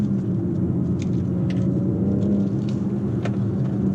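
A 2019 BMW X4 M40i driving in sport and manual mode, its engine giving a steady low droning rumble with road noise and a few faint clicks, heard from inside the cabin.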